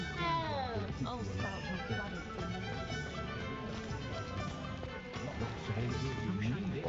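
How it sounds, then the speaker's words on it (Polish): A cat meows repeatedly in Hogwarts Legacy, in the Hogsmeade village area, with several drawn-out mews over game music and ambient sound. "Kolejny kotek."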